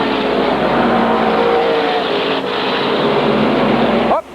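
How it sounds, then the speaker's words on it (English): SK modified race cars roar around the Waterford Speedbowl oval during a 1993 race, a loud continuous engine drone from a pack of cars that cuts off abruptly at the end. "Marshall White goes around right in front of a pack of automobiles."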